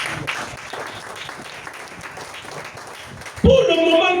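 A congregation claps and cheers to acclaim the king of kings at a worship gathering, a dense, steady wash of applause mixed with voices, ending in a sudden louder swell of singing or music.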